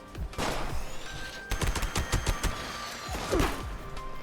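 Gunshots from a modified pepper-shaker weapon in the video game Fallout 76 fire in a quick volley of sharp, close cracks with impact thuds, with a brief pause and a final shot near the end.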